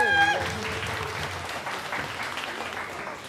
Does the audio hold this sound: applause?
yes